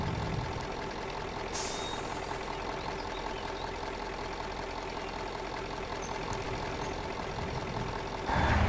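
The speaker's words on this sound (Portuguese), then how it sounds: "Olha só esse caminhão, cara." A heavy truck engine in the off-road driving game Spintires idles in a steady, loud drone, with sharp air-brake hisses at the start and again at the end.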